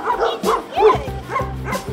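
A dog barks and yips in short repeated bursts, close by, with a person speaking at times over a kennel outreach visit.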